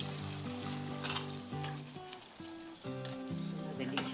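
Beans with their broth poured into a pan of sizzling bacon and longaniza, a steady close frying hiss with light stirring, under background music.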